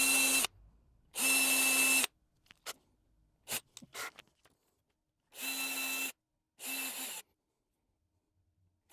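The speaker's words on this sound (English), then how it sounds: "we're just going to chuck that up in the drill" A power drill bores tuner holes in a guitar headstock in four loud, steady bursts of a second or less, separated by quiet gaps filled with small handling clicks.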